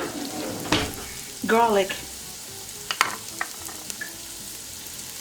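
Pork loin browns in a hot pan for a crock pot pork loin with potatoes, giving a steady low sizzle, with a short burst of a woman's speech partway through and a few light kitchen clicks.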